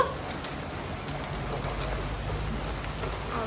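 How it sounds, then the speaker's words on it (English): Steady outdoor rain falls in a continuous broadband hiss with light drop patter, fairly close and even in level, with no talking over it. "Raining."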